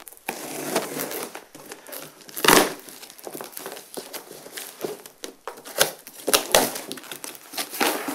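Crinkly snipping and crunching of cardboard being cut with scissors, in irregular bursts with short pauses, close up and fairly loud.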